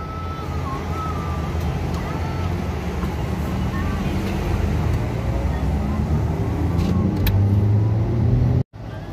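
Steady low rumble of congested road traffic in a jam near the Cibubur toll road, heard from inside a moving car, with engine drone throughout and a brief dropout near the end.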